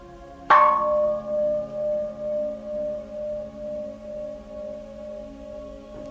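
A single gong strike rings out clearly, then a long resonant tone decays slowly with a pulsing, wavering swell over several seconds, heard alone.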